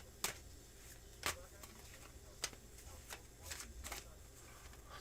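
Tarot cards being shuffled by hand, quiet crisp riffles and soft taps arriving at uneven intervals against a low, faint background hum.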